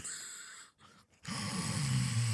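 A person imitates loud snoring with their voice, making a deep rattling snore at close range after a brief pause of quiet breaths.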